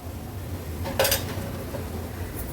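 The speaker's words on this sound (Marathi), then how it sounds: "झाकण काढून बघूया" A lid lifted off a pot of dried jawla shrimp and raw jackfruit cooking over a medium flame, giving a single brief metallic clink against a quiet, steady background.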